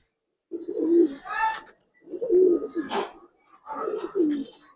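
Close, clear cooing from a pair of very young brown-necked pigeons kept by a Giribaz and coloring breeder: three rolling, throaty coo phrases in a steady rhythm, each separated by a short pause.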